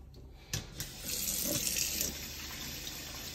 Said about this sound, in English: put some water in that ketchup bottle